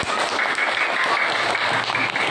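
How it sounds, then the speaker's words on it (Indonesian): Students in a classroom clap together in steady, dense applause during an elementary lesson on simple electric circuits, loud and close throughout. "tepuk tangan"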